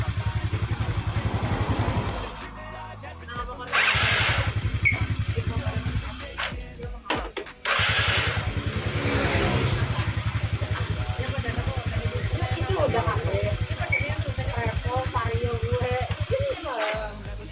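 A Yamaha Mio scooter engine, repaired for a double-starter fault, cranks and catches, then settles into a steady close idle with a pulsing low rumble, cutting out briefly and restarting, while a person talks over it.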